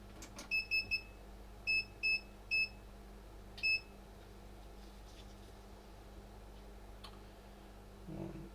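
A multimeter on continuity test beeps during probing of a damaged Nintendo Switch USB-C port: a quick triple beep, two more pairs, then a single beep. The tones are sharp and clear against a quiet room hum, with no talking.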